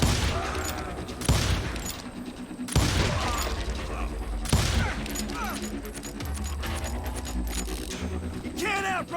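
Gunfire fills a Call of Juarez: Gunslinger firefight, with several loud, sharp bursts spaced a couple of seconds apart, ricochets and mechanical clatter between them, and voices shouting in the mix.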